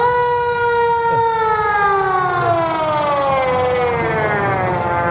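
A loud ambulance siren wails continuously for several seconds, its tone sliding slowly downward as if the vehicle is passing. It is heard alone, with no talk over it.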